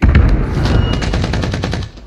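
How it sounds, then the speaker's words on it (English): Loud, close gunfire in a multiplayer shooter game, a fast run of sharp shots that rattles on for about two seconds before cutting off, with no speech during it. "Gas station is shooting me now."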